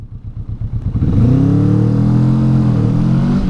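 A 2021 Honda CMX 500 Rebel motorcycle pulls away hard, with a loud, close, lumpy idle-like chug at the start, then the engine note rising steeply and holding a strong throttle as it accelerates.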